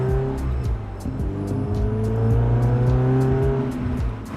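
A Mazda Miata cruises steadily, its engine giving a continuous mid-pitched drone with slight shifts in tone and faint, regular ticks and road noise inside the cabin.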